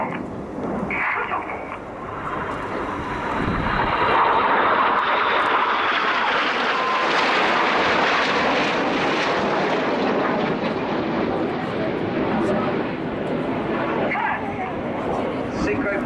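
An RAF Red Arrows jet makes a display pass at RIAT 2014 with smoke on. A loud, sustained jet roar swells and then slowly fades, and a commentator's voice comes through at the start.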